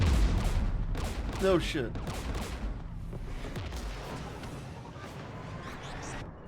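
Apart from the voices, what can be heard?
gunfire in Mass Effect 3 video game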